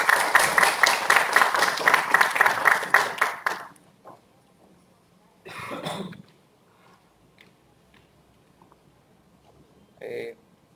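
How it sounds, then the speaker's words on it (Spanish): A seminar audience claps loudly to welcome a university professor and researcher before a talk on Amazon river dynamics; the applause dies away after about four seconds, followed by quiet room noise, a cough and brief rustles. "Recibámosle con un fuerte aplauso,"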